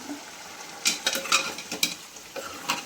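Chana dal and bitter gourd curry are stir-fried in a pan, with a soft sizzle under a series of quick scraping and clinking spatula strokes, close and moderately loud.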